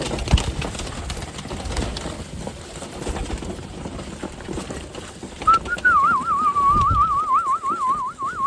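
Soft rustling and shuffling, then a warbling, wavering pigeon-like coo rises clearly near the end and continues to the finish.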